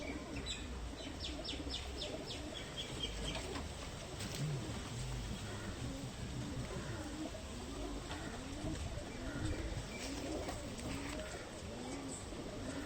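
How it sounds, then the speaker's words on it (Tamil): A long-distance racing pigeon coos in repeated low, rolling calls, with scattered higher chirps from other birds over a constant background hum. "நல்ல ஒரு ஸ்ட்ராங்கான ரேசிங் புறான்னு சொல்லலாம்."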